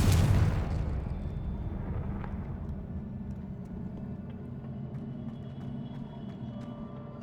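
A Confringo spell explosion in the Hogwarts Legacy video game erupts in a loud boom at the start, then fades into a long rumbling roar that keeps going at a steady level until it ends with a small pop.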